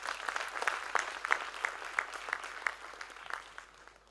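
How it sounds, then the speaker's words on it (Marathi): A small audience at a memorial lecture claps steadily for several seconds, the applause fairly close and moderately loud before tapering off at the end. "आणि एकदा या नौदलासाठी आपण जोरदार टाळ्या देऊया."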